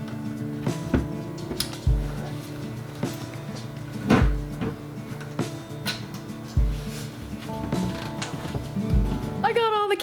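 Kitchen cabinet doors are taken off inside a shed being converted to a house: repeated knocks, clunks and creaking hinge sounds at irregular intervals, close by, with a voice talking in the background at times.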